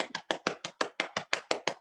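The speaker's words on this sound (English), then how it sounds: "you can clap your hands" Hands slap knees and clap in a quick, even drumming beat, about ten crisp close taps in under two seconds with no voices.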